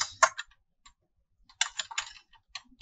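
Bursts of computer keyboard typing while programming in Java: a quick cluster of clicks, a pause, then another run of sharp keystrokes, close and fairly quiet, with no talking.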